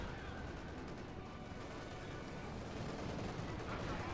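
Dense gunfire and battle noise from machine guns in a trench during a Company of Heroes 2 real-time strategy match, a steady loud rattle of rapid shots with explosions blended in, continuous throughout.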